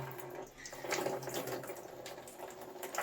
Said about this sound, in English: when I do that, the radiator will drain